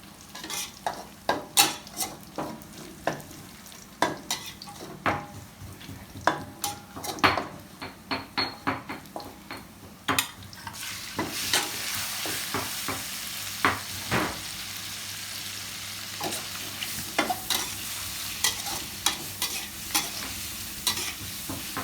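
Mushrooms and shrimp being stir-fried in a pan: irregular sharp scrapes and clanks of a utensil against the pan, then a loud steady sizzle as the stirring continues.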